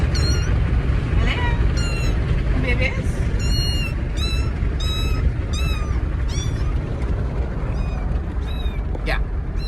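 Four young kittens meow repeatedly, a series of thin, high cries in quick succession over a loud, steady outdoor rumble.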